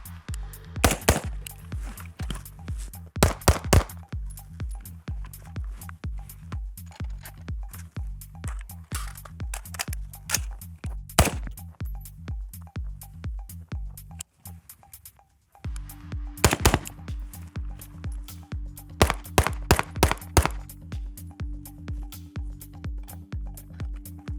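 Rifle and pistol live-fire at an outdoor shooting range in Utah, with loud sharp gunshots in rapid strings and clusters, alongside a steady mechanical ticking rhythm and a brief quiet gap midway.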